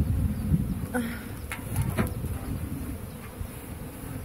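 Honeybees buzz in a dense, continuous drone around a heavy hive being handled at an apiary, close and steady with a few brief louder passes.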